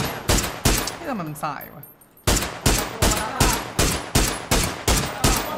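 Rapid, evenly spaced gunfire in the video game PUBG: about a dozen loud, close shots in a steady rhythm. The shots stop briefly while someone speaks, then resume.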